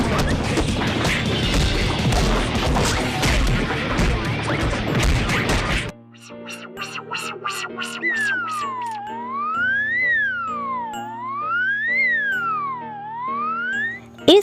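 In a Hindi cartoon, a watchman beats a donkey with a stick: a dense flurry of loud smacking and crashing blows lasts several seconds before giving way to light, bouncy cartoon music.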